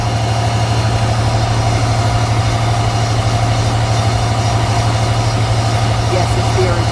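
A 6.7 Cummins diesel truck runs on a dyno, a loud, steady low engine drone holding constant throughout, with voices talking faintly underneath.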